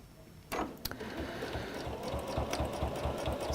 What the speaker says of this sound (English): I would just do a couple of reverse stitches and then carry on